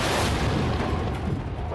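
A movie-trailer action sequence of gunfire and explosions plays as a dense, loud, rumbling barrage of booms and shots with no clear gaps.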